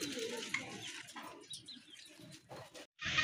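Rajgolla pigeons coo softly in a loft, faint bird calls and chirps mixed with light rustling and ambient noise, the sounds rising and falling in short bursts before a brief gap near the end.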